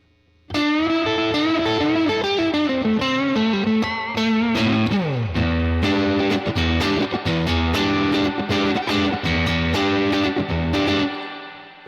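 Electric guitar played through a UAD Dream '65 amp emulation in its D-Tex mode, with a King Tone Duellist, Blues Power and Wampler Terraform on the board: a driven, slightly distorted bluesy run of bent notes and chords, close and loud, no talking.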